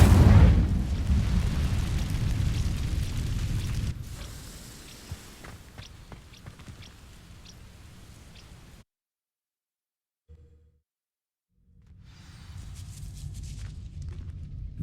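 Incendio fire spell igniting dry vines in Hogwarts Legacy: a loud booming whoosh of flame at the start, settling into a crackling burn that fades, a gap of near silence, then a rising rumble returns.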